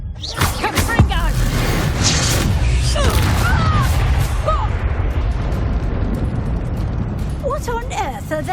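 A Confringo spell blast in Hogwarts Legacy erupts as a loud booming explosion amid continuous battle noise and shouting voices, with further crackling bursts following through the fight.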